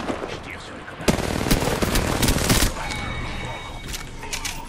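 Rapid automatic gunfire in the battle royale game Apex Legends, a dense burst of shots from about one second in, with a faint voice beneath and softer game sounds after.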